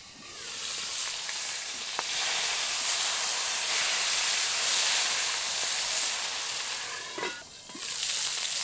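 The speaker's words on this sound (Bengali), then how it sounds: "আর তার জন্যই কিন্তু চাপা দিয়ে ভাজি, ভিতরে কিন্তু ভীষণ রকম ফাটছে।" Singhi catfish frying in hot oil under a lid, a steady loud sizzle with scattered sharp crackles and pops, no voices.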